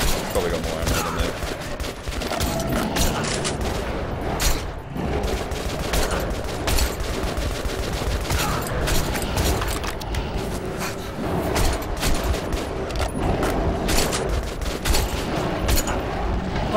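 Dense, continuous gunfire from the video game Metro 2033, rapid overlapping shots and bursts filling the whole stretch, loud and close, with game sounds mixed in.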